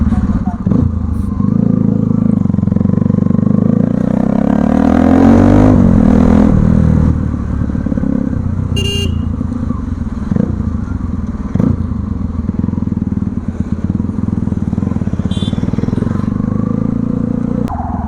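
A modified 2013 Bajaj Pulsar NS200 motorcycle revs loudly and close by, its engine note climbing and falling, with crackling exhaust pops and clatter throughout.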